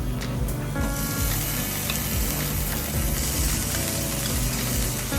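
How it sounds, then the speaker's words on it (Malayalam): Drained canned tuna goes into a hot pan of oil for a tuna masala and sizzles loudly and steadily at close range. A few soft clatters from the pan sound over the frying, with no talk. "ഓയിൽ കളഞ്ഞ ചൂണ ഇതിലേക്ക് ഇട്ടു."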